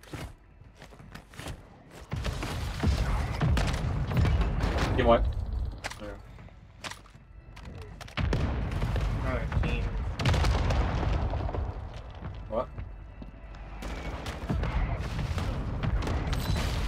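Mortar strikes in Warzone Resurgence land as several heavy booms and crackling blasts spread across the clip, mixed with gunfire and footsteps under frequent excited talk.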